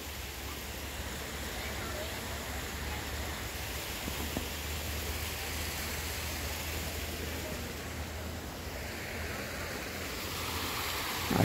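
A small artificial waterfall and cascade in the nativity scene at the Aparecida sanctuary gives a constant, soft, even wash of falling water, steady from start to end.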